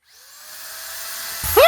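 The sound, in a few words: drill drilling into a head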